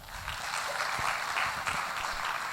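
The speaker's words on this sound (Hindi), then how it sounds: "इनके लिए जोरदार तालियां हो जाए" A seminar audience claps together in a steady, dense burst of applause that holds at an even level for a couple of seconds, with no voices standing out.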